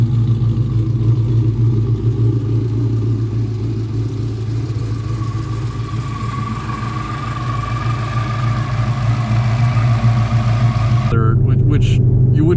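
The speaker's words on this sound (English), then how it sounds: "The Whipple almost makes a turbo noise." Whipple positive-displacement supercharger on a Dodge Charger R/T, a steady turbo-like whirring whine over a continuous engine rumble with a rising tone, loud and close throughout, with a person talking over it near the end.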